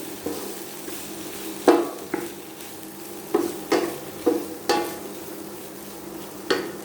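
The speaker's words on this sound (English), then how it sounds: "Just steam it so that it's easier for you when you do this on the frying pan." Sausage and vegetables sizzling in a hot frying pan with several sharp clinks of a utensil stirring and scraping, irregular and close, no talking.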